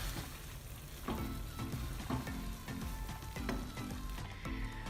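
Sweet colored vermicelli made with khoya is spooned out of a hot pan. A steady sizzle runs underneath while a spoon taps and scrapes the metal at close range.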